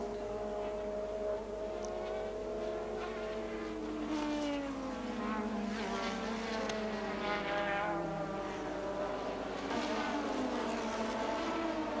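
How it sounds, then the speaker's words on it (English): Formula One race cars from the 1986 Grand Prix scream past, with high-revving engines rising and falling in pitch as they pass, under a steady background roar of continuous crowd and track noise. "Fabi was still pushing his car hard, hoping to get past Berger"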